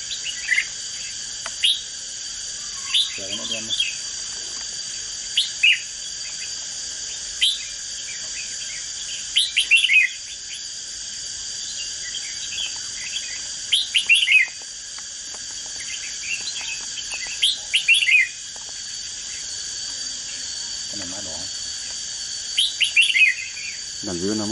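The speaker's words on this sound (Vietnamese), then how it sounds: "Con chim má đỏ nè." Red-whiskered bulbuls calling outdoors around a bird trap, giving repeated bright, short chirping phrases at irregular intervals over a loud, constant drone of crickets and insects, with a few brief soft sounds of people nearby.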